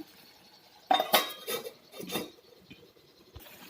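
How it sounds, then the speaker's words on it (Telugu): A metal lid clanks down onto a cooking pot of simmering drumstick curry, giving a few close, sharp metallic knocks and rattles in a quiet kitchen. "కొంచెం నీళ్లు పోసి ఇలా మూత పెట్టేసేయాలి"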